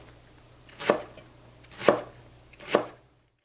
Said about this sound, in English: let's just make some very simple 3/8 of an inch to a 1/2 inch wide slices.